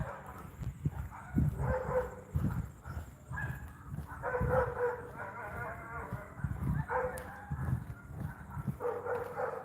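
Several dogs fight, giving out repeated rough barks, growls and yelps in clustered bursts, fairly close and loud, with another dog joining from down the block.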